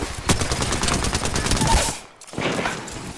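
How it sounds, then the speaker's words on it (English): Rapid automatic gunfire in a shooter video game, loud and continuous for about two seconds, a brief pause, then another burst of shots. "Open fire on the enemy. The enemies are shooting at me."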